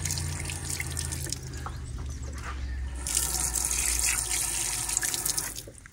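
Water running from a natural spring source on a hiking trail in Cyprus, a steady trickling splash that swells louder midway and stays close, with no talking.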